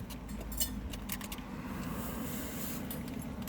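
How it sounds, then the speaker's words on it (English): Car keys jangle and clink lightly at close range inside a car in a few quick bursts over a low steady background hum. "I don't like my keys dangling down like that"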